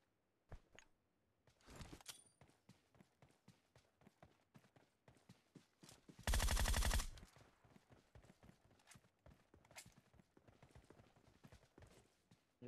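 Shotgun gunfire in PUBG Mobile Lite comes as sharp, sparse shots among rapid in-game footsteps and clicks, followed by a loud burst of firing lasting about a second in the middle.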